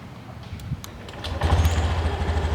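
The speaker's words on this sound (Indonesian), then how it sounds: "Nah, coba kita dengerin gimana suara mesinnya." A 2022 Honda Genio scooter with a smooth ACG starter fires up after a few soft clicks, then settles into a steady, low, even idle close by, with no talking.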